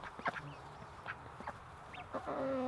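Ducks on a farm give several short, raspy quacks in quick succession, close by and moderately loud over a faint outdoor background.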